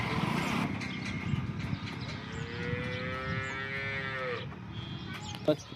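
Local Banaskantha cows moo with a single long drawn-out low call, heard at moderate distance over outdoor farm background noise.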